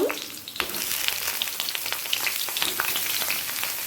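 Whole pointed gourds (patol) sizzling in mustard oil in a kadai, a bright, continuous crackling fry with sharp spattering pops spread across the clip, fairly close.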